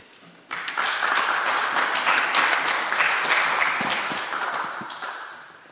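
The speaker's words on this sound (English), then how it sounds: "So please, 1 round of applause for Amir Taki." An audience at a tech conference applauds as a DarkFi developer is introduced. Clapping breaks out suddenly and stays full and sustained for several seconds before slowly thinning near the end.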